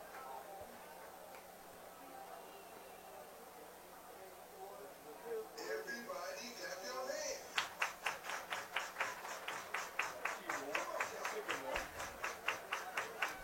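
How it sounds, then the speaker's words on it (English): Baseball crowd clapping in a steady rhythmic beat that builds into loud, evenly spaced claps with background cheering, under a broadcast announcer's talk. "Crowd getting into it."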